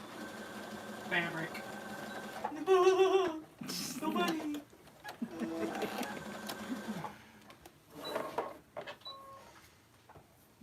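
Domestic sewing machine running in short mechanical bursts, buzzing and whirring near the microphone between stops, with people chatting over and around it.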